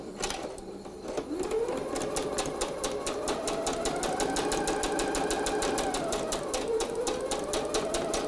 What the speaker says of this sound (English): we'll bring that over to the sewing machine and just sew our 1/4 inch seam